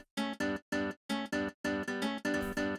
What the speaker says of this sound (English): I actually loaded in a contact patch because it was the only decent guitar sound I had on my hard drive, nylon guitar